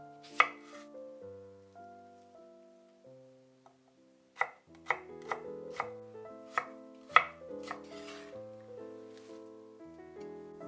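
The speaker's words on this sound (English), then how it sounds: "Cut the salad leaves, the cucumber," Salad leaves and cucumber are cut with a knife on a board: a few isolated chops, then a quick run of crisp, irregular cuts over soft background music.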